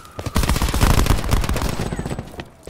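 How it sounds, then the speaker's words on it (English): Rapid bursts of automatic gunfire in the Black Ops 4 multiplayer game, Havana map, crackle loudly in dense overlapping volleys that taper off toward the end. "Surprised I didn't die then running through that gunfire."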